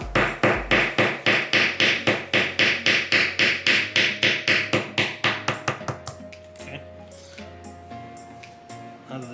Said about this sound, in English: I'll take the hammer and give it a few taps